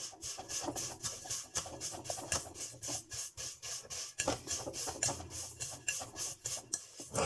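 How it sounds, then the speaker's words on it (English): Butter and sugar are creamed together in a bowl with a spoon, giving rapid, rhythmic scraping and rasping strokes, close and fairly quiet, that continue without pause. "I'm pushing it down to the bottom and just creaming it in."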